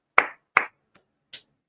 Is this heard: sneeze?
no